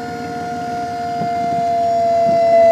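An electric pump on a tank of fluid powered by a battery hums steadily while building pressure, its whine holding a constant pitch as it slowly grows louder, with no talk.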